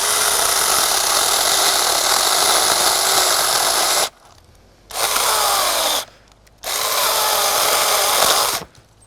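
A small battery-powered mini chainsaw cutting a notch in wood, a loud high-pitched whining buzz that runs for about four seconds, then stops and restarts in two shorter bursts with quiet gaps between.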